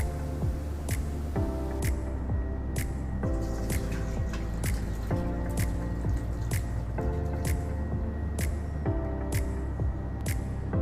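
Potato dumplings scooped out of a pot of water, a steady run of wet drips and splashes repeating every second or so over a constant bubbling background hum.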